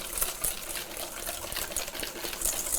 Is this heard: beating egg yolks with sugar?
yes